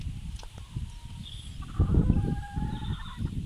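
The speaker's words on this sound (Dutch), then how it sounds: "hier is de haan" A rooster crows amid clucking poultry, with a low rumble of barnyard background noise throughout.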